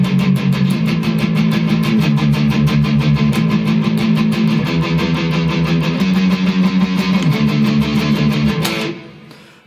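Guitar playing the intro of a song, with a steady rapid strummed rhythm over sustained low chords, loud and dense, ending with a final strike that rings out and fades.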